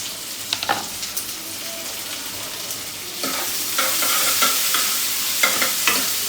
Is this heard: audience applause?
no